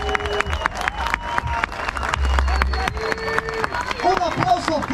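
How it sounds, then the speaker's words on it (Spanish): Audience applause and cheering for freestyle rapper Yair at a Red Bull rap battle final in Chile, mixed with loud music and an amplified host voice, with steady crowd noise throughout. "quiero un aplauso para Yair"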